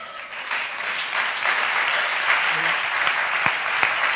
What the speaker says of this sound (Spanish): Los aplausos a CEAPAT.